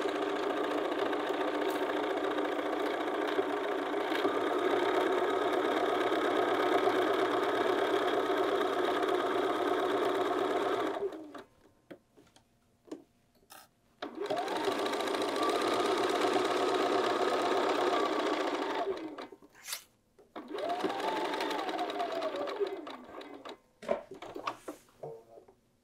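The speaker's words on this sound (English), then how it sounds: "So we're going to pivot and continue stitching." A sewing machine stitches bias binding onto a Stowe bag, running in a steady mechanical hum for about eleven seconds, pausing for a pivot, then resuming in two shorter bursts with light handling noises between.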